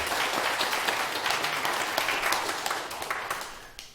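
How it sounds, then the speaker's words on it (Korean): A seated audience at a Buddhist dharma lecture applauds, with brisk, dense clapping that starts strong and gradually thins and fades toward the end. "네, 박수 한번 치세요."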